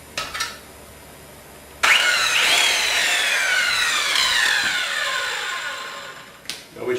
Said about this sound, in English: We'll try this 13 amp circular saw next.